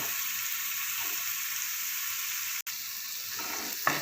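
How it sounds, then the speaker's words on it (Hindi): Garlic sautéing in a pan for tandoori aloo cutlets, a steady close sizzle and crackle throughout with a brief sharp click near the end, no talk. "ये लहसुन जो है हमने इसको ब्राउन नहीं करना, सिर्फ सौटे ही करना था।"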